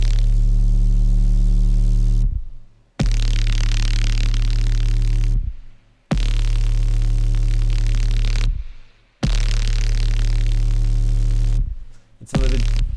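Synthesized sound effect built from a three-oscillator effect chain: loud, dense droning bursts with heavy low-end hum and hissy static upper layers, cut into four long segments by abrupt silent gaps, ending with a short fragment.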